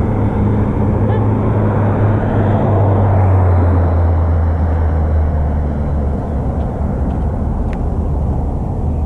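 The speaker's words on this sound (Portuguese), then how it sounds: "Tá vindo mais um carro." Another car goes by on a street, a continuous low engine rumble with a droning hum that drops in pitch partway through and then holds steady at moderate loudness.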